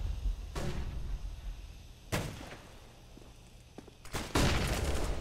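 A flashbang grenade in a video game gives several sharp bursts spread across the moment, each a loud broadband crack or whoosh, with quieter game noise between them.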